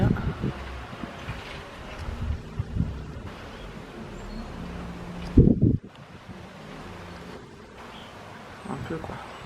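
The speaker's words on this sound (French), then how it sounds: "il y a un vent de ouf." Gusty wind buffets the microphone in rough, uneven bursts, with one sharp loud gust partway through and faint voices underneath.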